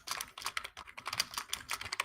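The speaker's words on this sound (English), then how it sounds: "I can hear your keyboard, Adam." Steady, fast computer keyboard typing, close and fairly loud, with rapid irregular key clicks running through the whole stretch and no voices over it.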